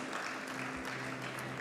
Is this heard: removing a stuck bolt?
no